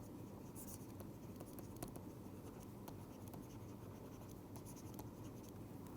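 Pen or marker scratching steadily across a surface while an equation is written out, a continuous soft scraping with faint ticks, close and alone with no voice.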